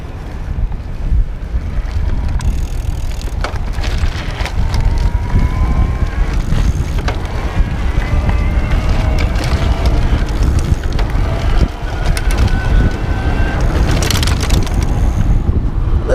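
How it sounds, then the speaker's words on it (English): A Tern GSD electric cargo bike ridden in turbo mode, its motor whine rising and falling faintly beneath heavy, steady wind buffeting on the microphone, with no talking. "I'm gonna ride this around in turbo mode because I think it's the easiest to hear"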